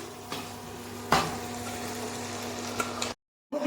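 Onions frying in a pan at home for a chicken dish, a steady low crackle and hiss that runs near and even, with a brief clatter early on and a short gap of silence near the end.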